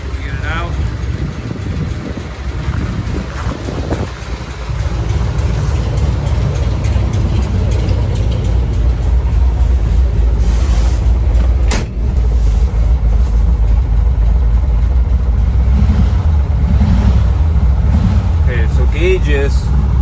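A 1948 Mercury wrecker tow truck's engine idles with a steady, loud, deep rumble throughout, recorded up close, with someone talking over it.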